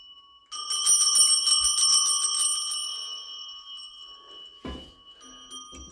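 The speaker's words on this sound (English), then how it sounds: "Kind of a neat set of bells" A neat set of antique bells rings with bright, sustained metallic tones, first in a rapid jangling cluster for a couple of seconds, then decaying, with a brief clunk of handling near the end.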